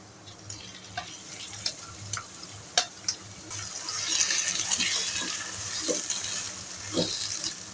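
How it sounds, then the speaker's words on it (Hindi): Grated raw mango frying in a pan for a quick instant pickle while being stirred: scattered scrapes and taps at first, then a steady, fairly close sizzle with occasional stirring knocks, and no voices. "अब मैं इसमें डाल रही हूँ ये कद्दूकश की हुई केरियाँ।"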